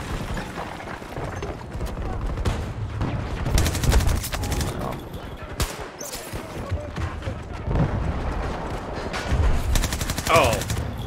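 Gunfire in the video game Battlefield 2042, rapid bursts and repeated shots cracking through a busy, dense battle mix with explosions and clatter, heard continuously at fairly loud level with a voice speaking at moments.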